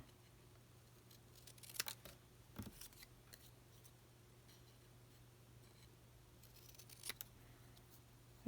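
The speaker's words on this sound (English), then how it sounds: "Just going to hand cut it." Paper being hand cut with scissors during a Stampin' Up! card-making session, giving a few quiet, brief snips spaced apart over a low steady hum.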